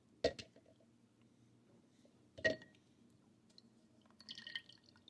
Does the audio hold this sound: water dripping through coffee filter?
yes